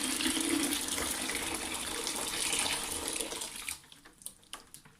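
Tap water runs loudly and steadily into a vessel at close range for a home remedy, then stops, leaving a few faint clinks and knocks.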